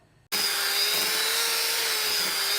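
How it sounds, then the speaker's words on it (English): An electric whisk beats butter and caster sugar for a fondant fancy sponge, starting abruptly after a brief quiet moment and then holding a steady, loud, high-pitched motor whir. "you'll need to beat this together with an electric whisk for at least 5 minutes until light and fluffy"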